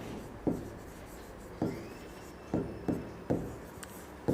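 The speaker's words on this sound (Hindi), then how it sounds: "तो मैं यहाँ पर लिख सकता हूँ इवैल्यूएशन" Chalk or marker writing on a board during a Class 12 maths lesson on determinants, several short scratchy strokes at irregular intervals, close and fairly quiet, with no talking.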